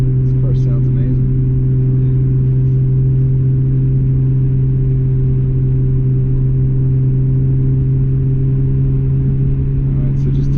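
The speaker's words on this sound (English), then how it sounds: "This car sounds amazing." A 1991 Nissan Skyline GT-R R32 engine idles and hums steadily with a deep, constant drone, heard loud and close from inside the car, with faint voices at the edges.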